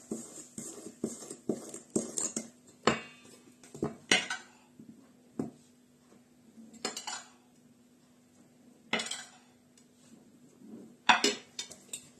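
A utensil stirs sifted flour into cookie dough in a bowl, giving irregular scraping clinks and taps against the bowl with quiet pauses between strokes. It is close and fairly soft, with no voices.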